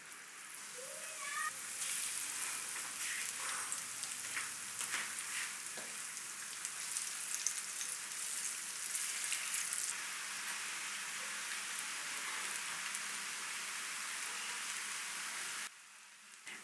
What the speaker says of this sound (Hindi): अब इसको फ्राई करते हैं।